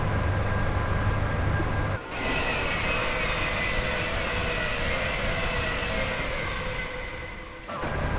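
A Class 87 electric locomotive in Train Simulator Classic on the West Coast Main Line near Preston, giving a steady, loud, broad rumble and whine that drops out briefly twice, once early and once near the end, with no talking.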